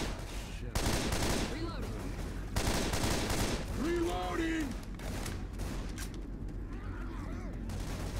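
Rapid bursts of automatic gunfire in the zombie shooter Left 4 Dead 2, dense and continuous, broken by short pauses, with tonal in-game effects and occasional talk mixed underneath.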